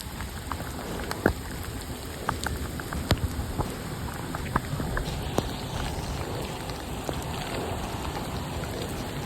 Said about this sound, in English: the rain hits